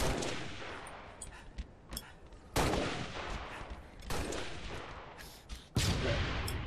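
Grenade explosions during a Slayer match in Halo multiplayer. Several loud, sharp blasts burst out a second or two apart, each decaying into rumbling noise amid faint background gunfire.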